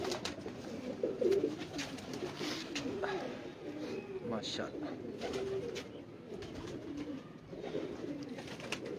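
Sialkoti Imam Sahab pigeons, a rare breed kept on a rooftop, coo softly and repeatedly in the background while someone talks over them throughout.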